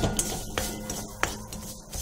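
Metal spoon scraping and clinking against a pan while chili powder and salt are mixed for a Congress kadlebeeja groundnut snack, with a few sharp taps among soft, uneven stirring.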